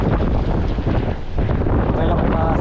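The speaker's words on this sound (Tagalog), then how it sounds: "Tapos lakas ng hangin." Strong wind buffets the microphone in a loud, steady roar at a fishing spot, with water sounds underneath.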